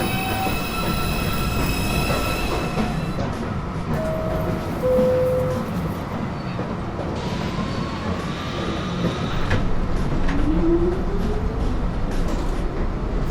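A NYC subway 2 express train arrives at a station with a loud continuous rumble, rattling wheels and high-pitched brake and wheel squeals rising and falling as it pulls in.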